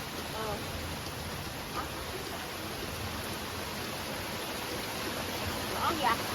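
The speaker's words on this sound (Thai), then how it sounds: "เดี๋ยวเรามานั่งรอฝนหยุดกันเลยดีกว่านะครับ" Heavy rain pours down in a steady, dense hiss that never lets up, with a few faint voices briefly surfacing over the downpour.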